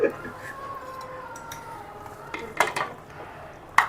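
Pasta being stirred and mixed in a metal pot, with a few sharp clinks and scrapes of a utensil against the pot near the start, middle and end over a quiet kitchen background with a faint tonal hum.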